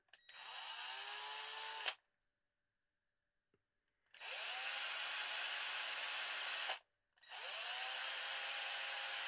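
Power drill spinning cable wires clamped in its chuck to twist an audio interconnect: three sustained high whirring runs with rising pitch at each start, separated by silent pauses, close and loud.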